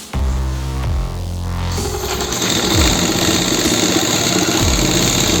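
A sewing machine runs steadily while stitching fabric during the making of a palazzo, loud and close, with a continuous mechanical whir and low rhythmic motor hum and no talking.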